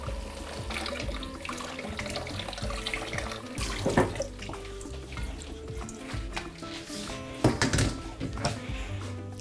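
Cold tap water runs steadily over rinsed beans in a sink, a continuous close splashing rush with a few louder surges of water hitting the beans and basin.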